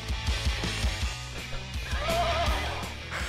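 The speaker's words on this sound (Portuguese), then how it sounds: "Ó o cavalo relinchando" A horse whinnies in the Horse Racing Rally video game, a rising and falling neigh near the middle of the clip, heard over steady rhythmic game music with no talking.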